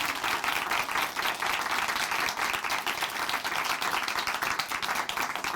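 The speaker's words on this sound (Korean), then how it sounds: "다시 한번 박수 보내드릴게요" A studio audience at a Christian testimony program applauds, with brisk, dense clapping from many hands, steady and moderately loud for several seconds without speech.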